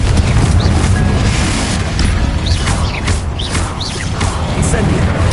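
Hogwarts Legacy combat with the Confringo blasting spell: loud, dense rumbling explosions and crashing impacts, continuous through the clip, with game voices mixed in the din.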